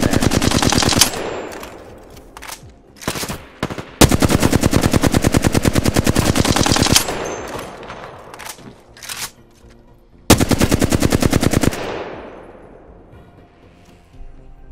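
Gunfire at the firing range in Apex Legends: loud bursts of rapid automatic shots, each run lasting several seconds, separated by single pops and short gaps, with echoing tails between volleys.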